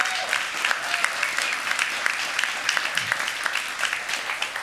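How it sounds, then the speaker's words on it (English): An audience at a talk on Florida panther conservation claps steadily and evenly, a dense sustained round of applause without cheering. "maybe another round of applause for Carlton and Temperance to finish us off."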